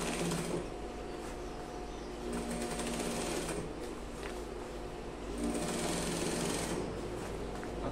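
A sewing machine stitches a trouser hem in fast, steady bursts of close mechanical whirring and rapid needle clatter, pausing briefly between runs.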